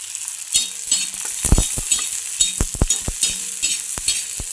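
Ginger and garlic sizzle in oil in a pan for a village-style potato dish, with steady frying hiss broken by repeated clinks and scrapes of a spoon stirring, close and fairly loud.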